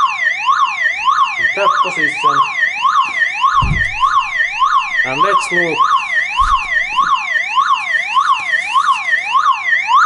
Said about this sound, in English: This is car alarm